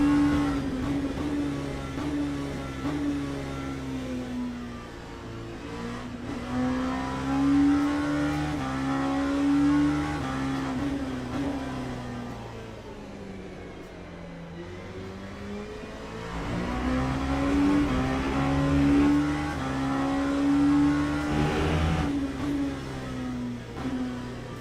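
LMP2 prototype race car engine at Paul Ricard in the sim racing game Le Mans Ultimate, droning steadily and rising and falling in pitch through gear changes and corners, loud and continuous with no talk.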